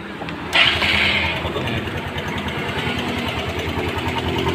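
A Suzuki AX4 motorcycle engine catches with a brief starter burst, then settles into a loud, close, steady idle with an even pulsing chug.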